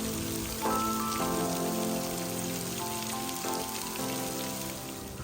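Steady rain pattering on surfaces at Shelter Bay Marina by the Panama Canal during the rainy season, dense and constant, with a faint tonal hum running underneath and no voices.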